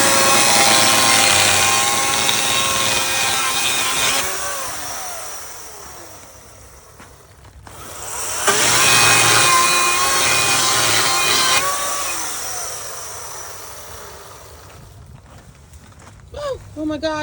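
A chainsaw bites into the wood of an old shed in two long loud cutting passes, the engine dipping and rising between them, close by, with people talking faintly near the end.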